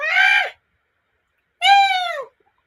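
A person imitates an eagle call with two loud, drawn-out screeching cries, each about half a second, separated by a pause of roughly a second, close to the mic with no other sound around them.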